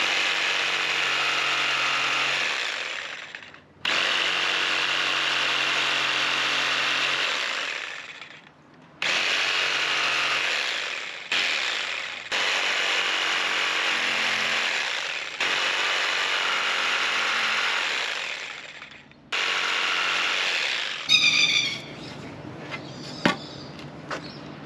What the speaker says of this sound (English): you can hear in the background that Sven's still busy cutting the rest of my stakes for me